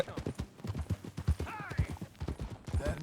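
A horse's hooves clip-clop in a steady walking rhythm on hard ground in the Western video game Red Dead Redemption 2, close and clear, with a brief whinny-like snort midway.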